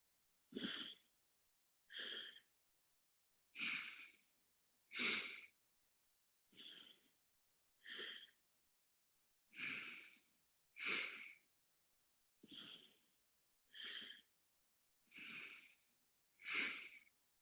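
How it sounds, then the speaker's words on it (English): Alternate nostril breathing during a freediving pranayama exercise: twelve separate breathy inhales and exhales through one nostril at a time, evenly spaced about every second and a half, close and alone with no talk. "the right nostril, inhale, and then you switch and exhale"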